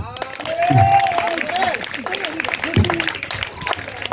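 A church congregation at an evangelization gathering claps and cheers in praise, a steady wash of applause with shouting voices and a preacher's voice over it.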